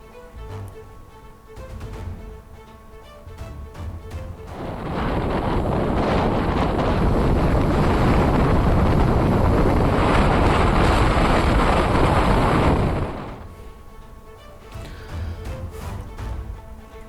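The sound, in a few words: strong gale winds and rough sea at Dhanushkodi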